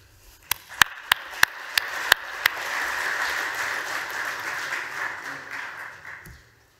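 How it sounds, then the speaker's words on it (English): Applause from a conference audience at KubeCon's Cilium + eBPF Day, starting after a few sharp isolated claps and swelling into a moderate sustained wash of clapping before tapering off. "So please give a round of applause to Solo."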